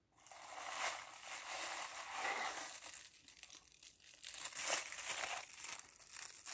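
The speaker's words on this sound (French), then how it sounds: "cette petite boîte, on va l'ouvrir ensemble" Packaging on a small box crinkles and rustles up close in a continuous series of soft crackling handling sounds, quiet and alone.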